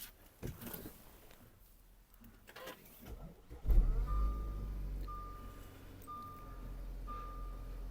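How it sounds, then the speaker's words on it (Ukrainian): A 2015 Audi Q5 starts by push button with a short whirring crank, then its engine catches with a loud surge and settles into a steady close idle. A faint repeating chime sounds over the idle. "кнопка старт-стоп, зараз заведемо її"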